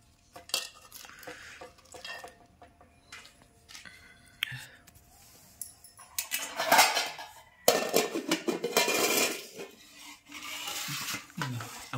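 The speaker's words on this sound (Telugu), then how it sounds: "ఆ పూరీల మీద పోసి" Dal being poured onto puris at home, heard as close clinks and scrapes of a pot and metal utensils with sloshing stirring, in uneven bursts, while someone speaks softly now and then.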